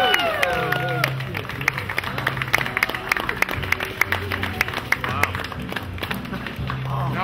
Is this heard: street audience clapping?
yes